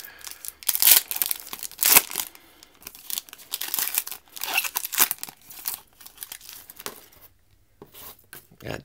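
Foil wrapper of a Panini Revolution basketball card pack being torn open, loud close crinkling and ripping in irregular bursts with brief pauses, no talking.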